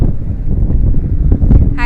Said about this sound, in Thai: โอ้โหลมแรงมากฝนจะตกแน่ ๆ